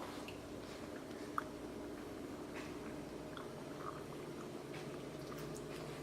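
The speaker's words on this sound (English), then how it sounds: "now we're finally ready to fry our pastels" Brazilian pastels frying in hot oil, a steady close bubbling sizzle with soft crackles and pops throughout, no talking.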